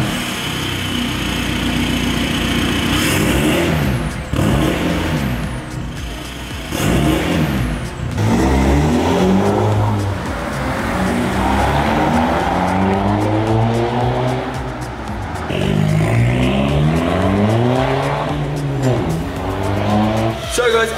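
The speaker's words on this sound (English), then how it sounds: "As you can hear, the van, the T5, is absolutely brilliant and sounds gorgeous" A VW T5 van with a stage 1+ exhaust split into twin 2.25-inch R32-style tailpipes revs loudly and repeatedly, its engine note sweeping up and down in rising and falling pulls, close and continuous throughout.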